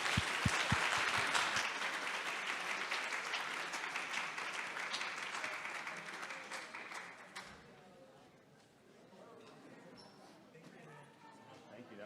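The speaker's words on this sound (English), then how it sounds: "please give a huge round of applause for our speakers." Audience applause for speakers at a faculty research symposium, a sustained burst of many hands clapping that fills the room, then tapers off into quieter crowd murmur.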